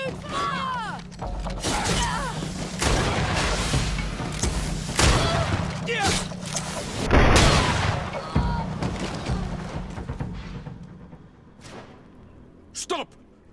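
Musket volleys fired by guards in GreedFall, several loud booming shots and thuds scattered across a chaotic fight, with shouting voices throughout and a final sharp report near the end.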